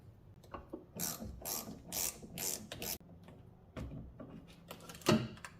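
A ratchet loosens the 10mm nut on the negative battery cable of a supercharged 2010 Audi B8 S4, giving several close bursts of quick clicking with short pauses between them and one sharper clack near the end.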